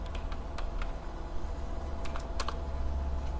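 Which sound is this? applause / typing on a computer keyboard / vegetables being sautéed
typing on a computer keyboard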